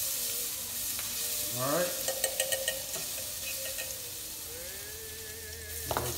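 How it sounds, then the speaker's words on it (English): Fresh garlic and spinach sauteing in a pan, a steady low sizzle with a few stirring scrapes and utensil taps, quiet and close, with a brief spoken remark. "We're going to saute some spinach. Fresh garlic."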